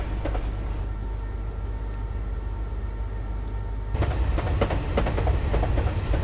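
A train running on rails in Dovetail's Train Simulator video game, a loud, continuous rolling rumble that turns harsher and more rattly partway through, with rhythmic clatter and no voices.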